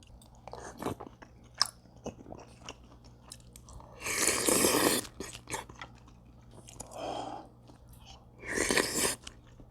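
Close, wet chewing of soft Korean sundae blood sausage taken from rice soup, with several louder bursts of mastication in separate bouts and quieter mouth sounds between them.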